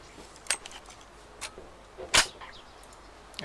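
Three sharp, crisp gunshot cracks in the video game DayZ Standalone ring out at uneven intervals, with the third the loudest, over a quiet background.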